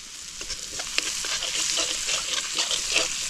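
Cumin seeds fry in hot oil in a pan, giving a loud, steady, close crackling sizzle with stirring scrapes throughout and no talking.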